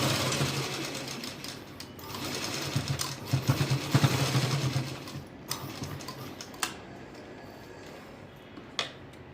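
A sewing machine stitches the drawstring section of a skirt made from a one-piece dress, running in a fast, loud mechanical whir. It pauses, then gives a few short clicks and bursts near the end.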